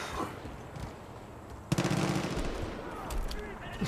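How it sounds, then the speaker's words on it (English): Rapid automatic video game gunfire bursts out suddenly after a quieter stretch, loud and rattling, with more scattered shots following. "I hear gunfire."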